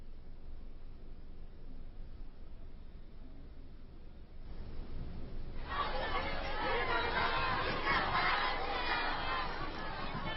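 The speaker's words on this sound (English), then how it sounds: "जो नारे लगाने की, जयकारे लगाने की जो गति है वो उसमें और तेजी आ जाती है" A large crowd of supporters welcoming PM Modi in Deoghar, Jharkhand starts as a distant murmur, then swells into loud, dense chanting and cheering that carries on to the end.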